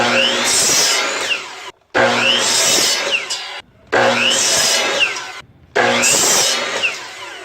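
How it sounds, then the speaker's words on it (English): A saw cuts a wooden board to length for a foundry molding flask. Four loud, rasping cutting passes follow one another, each about two seconds long, with brief silent breaks between them. "That way I can line up to it with the saw and cut it."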